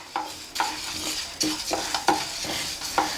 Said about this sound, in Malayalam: ചെറു തീയിലിട്ടിട്ട് പതുക്കെ വറുത്തെടുക്കാം